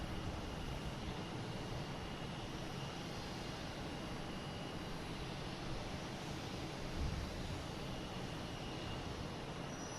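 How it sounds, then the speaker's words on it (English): British Airways Airbus A380 taking off at Boston Logan, a steady broadband jet roar that stays loud and constant throughout, heard from a distance with no talk over it. "There goes the A380 Speedbird."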